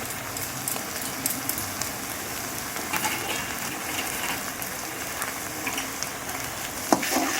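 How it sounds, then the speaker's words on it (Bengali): Ginger paste hitting browned onions and capsicum in a hot pan for a chicken curry, a dense continuous sizzle with intermittent stirring clinks and a sharp utensil knock near the end, no voices. "পেঁয়াজটা ভাজা ভাজা হয়ে গেছে, দেখুন আদা বাটা"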